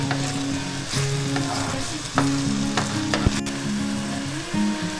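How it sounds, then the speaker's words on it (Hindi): Minced mutton keema fries with green chilies in a loud, steady sizzle, broken by repeated stirring scrapes and knocks of a spoon against the pan, with no voices. "कीमे को हम भून रहे हैं।"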